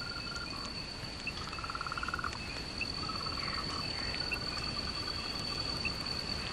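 A frog in the wild in Taiwan croaks in quick rattling bursts, set against a constant high chorus of crickets and insects at night.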